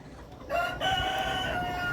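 A Tiger breed rooster crows once, loud and close, its call rising after a brief lead-in of barnyard noise.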